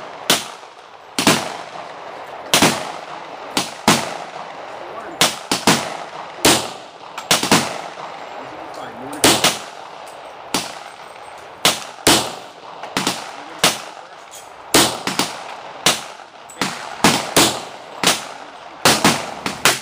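A 1911 pistol fired at a shooting range, sharp loud reports coming in quick strings of several shots with short pauses between, repeating steadily throughout.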